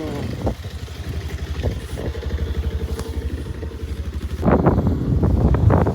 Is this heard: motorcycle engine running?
yes